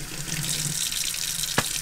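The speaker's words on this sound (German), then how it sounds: "mache jetzt einfach ein bisschen warmes Wasser rein" Warm tap water runs steadily into a cup in a sink, a continuous splashing stream with one brief sharp clink near the end, close and alone without talk.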